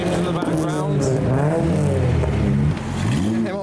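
A Mazda MX-5 at a tuner car meet revs hard, engine tones rising and falling with a rough exhaust note, while someone talks continuously over it.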